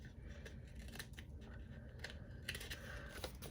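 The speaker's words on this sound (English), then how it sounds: "I would just take my scissors and trim it a little bit." Creative Memories micro scissors trimming paper for a scrapbooking border, a handful of quick, crisp snips spaced irregularly, close up against faint room noise.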